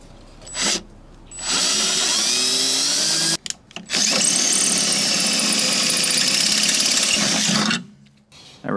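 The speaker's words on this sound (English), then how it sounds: "with a 5/16 drill bit, I'm just going to drill through the fender here to put our support bar in" Power drill with a 5/16 bit boring through an aluminum off-road fender: a loud, steady whining drill run that cuts out briefly near the middle, then resumes at full strength for several seconds before stopping.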